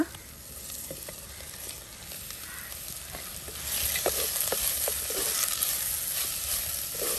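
Dry shark fish frying with softened onions in a pan for a Mangalorean sukka, a steady close sizzle with scraping stirs, growing louder partway through.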